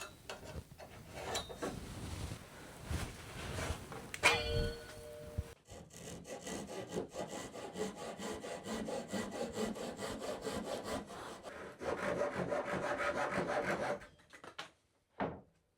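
Ends of a homemade wooden windowsill being sawn off by hand, steady rasping strokes close up, pausing briefly then resuming in a long run of rhythmic sawing.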